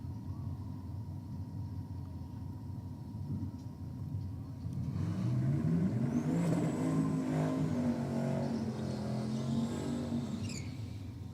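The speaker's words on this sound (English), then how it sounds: "Something about the engine note of a turboed V8, isn't there?" Turbocharged V8 race car engine rising from a low rumble to a loud, revving, accelerating roar that holds steady, heard continuously with no talk.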